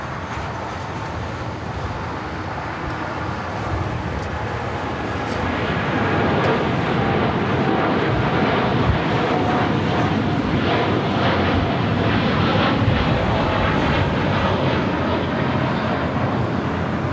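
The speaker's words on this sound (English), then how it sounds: "Japan Airlines, the Dreamliner, 787-8 Dreamliner heading to Tokyo Narita, flight 61, and now rolling down" Japan Airlines Boeing 787-8 Dreamliner, flight 61 to Tokyo Narita, rolling down runway 25 right for takeoff at LAX: a broad, steady jet roar that swells after the first few seconds and holds loud and continuous.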